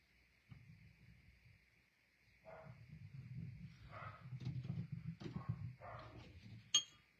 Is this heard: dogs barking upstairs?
yes